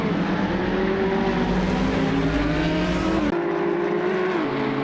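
Several GT3 race cars, including an Audi and a Camaro, roar in close company at Donington Park in Assetto Corsa, with loud, steady engine drone and shifting pitch as they battle, no voices.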